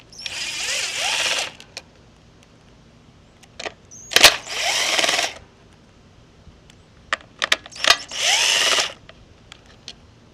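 A power tool spins out 8mm bolts from the filter cage on a generator, giving three loud whirring bursts at close range with scattered clicks and small metallic taps between them.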